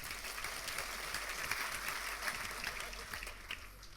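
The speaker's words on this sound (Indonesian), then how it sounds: "Sekarang tepuk tangan dengan tulus." A church congregation claps during a sermon, a soft, distant patter of many hands that holds steady for several seconds beneath a low hum.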